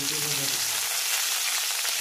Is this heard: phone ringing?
no